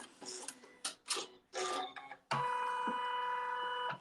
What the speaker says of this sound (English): that's the great thing about the embroidery machine. It knows exactly where your seam needs to be.